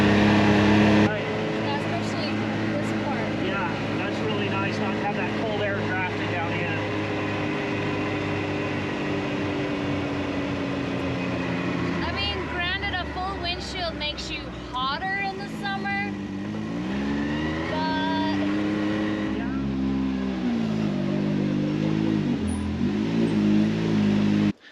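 A Can-Am X3 side-by-side fitted with a windshield drives along with a continuous engine drone that rises and falls as it revs, while people talk throughout.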